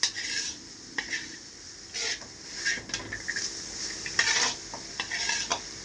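Egg and carrots stir-fried together on high flame for fried rice, repeated brisk scraping strokes of a spatula against the pan over a low sizzle, close and fairly loud.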